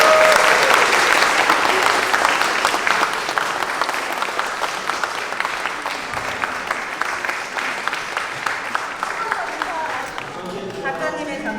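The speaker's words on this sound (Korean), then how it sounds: "작가님께 박수 한번 부탁드립니다" Audience applause for an artist, with loud, sustained clapping from a gathered crowd that slowly thins and fades, then gives way to speech near the end.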